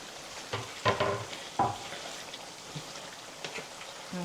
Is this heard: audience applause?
no